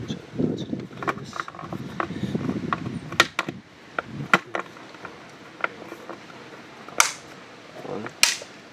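Plastic PCV valve part on a VW Jetta being pressed and clicked into place: scattered handling rustles, then a few sharp snapping clicks up close, the loudest two near the end.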